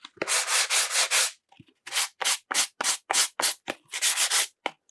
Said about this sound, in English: I want to sand the box a bit.